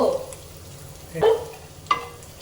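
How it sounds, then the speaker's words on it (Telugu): Tomato egg curry stirred in a pan, with a few scraping stir strokes over a soft background sizzle, close and fairly quiet. "ఇట్లా మంచిగా మిక్స్ చేసుకోవాలన్నమాట"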